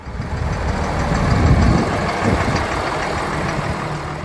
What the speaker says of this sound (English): When you fire up its DT436 turbo diesel, there's this deep, confident growl, low, powerful, and unmistakably IH.